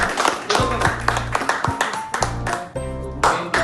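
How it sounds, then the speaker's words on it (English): An indoor audience at a healthcare centre ceremony in Varca claps in scattered, uneven bursts, the sharp slaps close and loud, with a low hum and some talk in the background. "let us give her a big round of applause"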